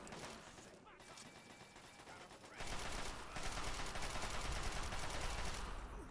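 Dense gunfire crackles in a Fallout 3 firefight in a room full of ammunition for tanks and mortar cannons, rapid bursts thickening into a continuous roar, fairly faint and distant, with talk mixed in.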